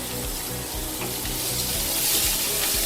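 Ginger and other aromatics stir-fry in a pan with a steady, close sizzle and a soft scraping of stirring throughout, continuous and without talk.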